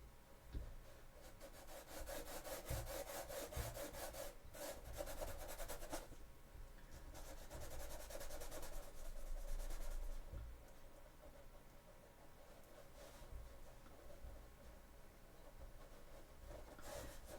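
Foam clay on Sisters of Battle cosplay shin armour is sanded by hand, a continuous raspy scrubbing of back-and-forth strokes, close and moderately quiet with no speech.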